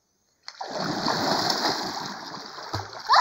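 A person plunges into cold, clean river water, landing with a sudden loud splash followed by several seconds of churning, sloshing water, then a sharp thump near the end.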